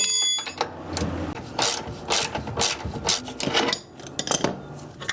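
Ratchet wrench loosening a fastener on a Honda or Acura lower control arm, close rapid clicking in uneven bursts with scraping metal between strokes, no talk.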